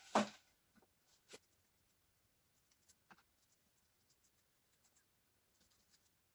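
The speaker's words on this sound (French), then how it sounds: "Ici, je vais en coller mon papier." Glue is spread across paper for a book cover: faint, close scratchy strokes from a brush or spreader, sparse and irregular, with a sharper stroke at the start and no voices.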